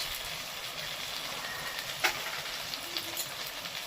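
Low, steady sizzle of ground turmeric, chilli and cumin frying in a pan for fish roe kofta curry, a soft continuous hiss with one brief scrape partway through.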